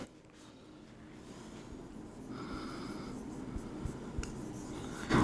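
Chalk or marker writing on a board during a maths lecture, soft scratchy strokes and taps coming in short bursts, fairly faint, with light breathing and no speech.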